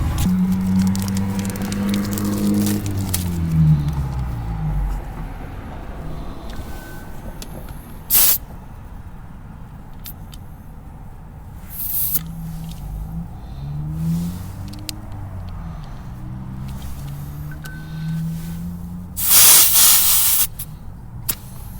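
Air hissing in short bursts from a car tire valve as a digital tire pressure gauge is pressed on, several sharp spurts scattered over a low idling hum, the loudest near the end.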